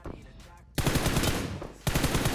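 Automatic gunfire from the PUBG Mobile video game, a sustained loud burst of rapid shots followed by a second burst, opening after a quieter stretch with faint sounds.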